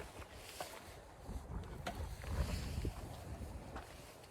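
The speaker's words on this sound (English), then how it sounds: "trees just over here are just howling" Wind howls through trees near a mountain trail on a breezy morning, a low, steady rushing roar with buffeting gusts close to the microphone.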